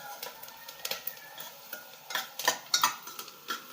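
Onions for pav bhaji are sautéed with a utensil, quiet clinks and scraping stirs in an irregular rhythm over faint frying, with no voices.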